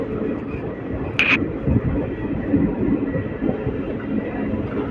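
The Amravati Express passenger train rumbles steadily along the rails near Ballari with a continuous low roar and faint rhythmic clatter, heard from inside or close by.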